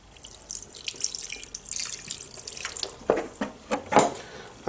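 Hot water runs steadily from a tap, splashing and gurgling into a sink, with a few louder splashes toward the end.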